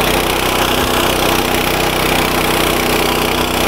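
A walk-behind tractor with a mower attachment runs with a loud, steady engine drone that holds unbroken throughout, close to the listener.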